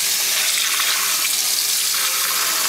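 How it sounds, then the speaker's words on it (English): Tap water runs steadily into a sink while dyed yarn is rinsed out of a Ziploc bag, a continuous close hiss of flowing water. "So I'm gonna move over to the sink, open the Ziploc bag, and start rinsing it out."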